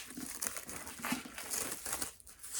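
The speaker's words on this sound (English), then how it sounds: "I have a foolproof method for getting it out, and that is that I cut the plastic." Plastic shrink wrap crinkles and rustles steadily as it is cut away from a Centipede Press limited edition of Pat Frank's Alas, Babylon, close and fairly quiet, with no voices.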